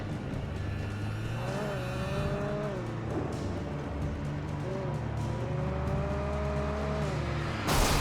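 Car engine droning in Alan Wake Remastered, with rising and falling revs as the vehicle drives along, steady and close throughout, ending in a brief burst of noise.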